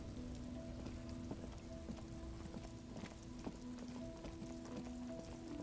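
Steady rain patters in the Disco Elysium video game, a soft continuous hiss of drops with faint tonal hum beneath, quiet and even throughout with no talking.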